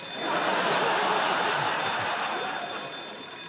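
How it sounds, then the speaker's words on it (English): An alarm goes off, a loud, steady electronic ringing tone that holds without a break for several seconds and drowns out everything else. "That's the pissing alarm."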